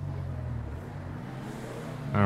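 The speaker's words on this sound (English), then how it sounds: "I can actually hear the turbos." A low, droning turbocharged car engine hums steadily in GTA 5, then revs up sharply near the end.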